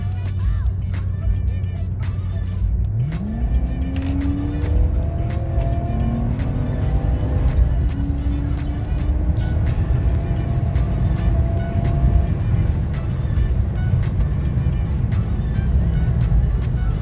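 A 2003 Infiniti M45 sedan accelerates hard, its engine note rising steeply and then climbing through several gears before settling into a steady cruise, heard from inside with road and wind noise underneath.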